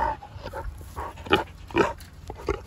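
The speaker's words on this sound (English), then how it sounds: "She's such a lovely pig." Pig grunting in a farm setting, a series of short, close, uneven grunts and snorts spaced through the clip, with faint background noise.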